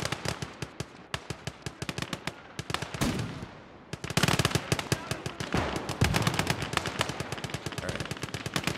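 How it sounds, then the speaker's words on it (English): Machine gun fire in the World War II strategy game Gates of Hell: Ostfront, rapid continuous bursts of sharp cracking shots with echoing impacts, loud and dense throughout without talk. "We are ripping them apart with effective machine gun fire."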